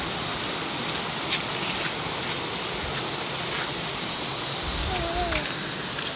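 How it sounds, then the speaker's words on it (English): A valley waterfall gives off a steady, loud rushing roar throughout, with faint voices briefly audible beneath the water. "We're back to the waterfalls."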